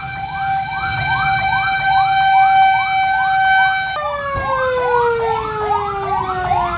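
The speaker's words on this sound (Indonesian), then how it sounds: "Dan ini mobil pemadam kebakaran juga sudah datang." A loud fire truck siren wails continuously in rising and falling sweeps at a fire near the Tendean TransJakarta stop, with steady background rumble and no talking.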